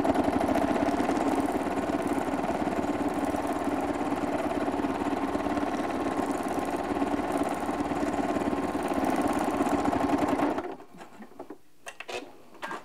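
A sewing machine doing free motion quilting runs continuously and up close with a fast, even whirring stitch for about ten seconds, then stops, leaving quiet with a few small clicks.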